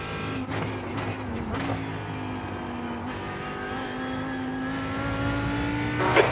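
A race car approaching in a Daytona racing video game, its engine a steady, loud whine rising gradually in pitch as it draws closer, with a brief scuff near the end.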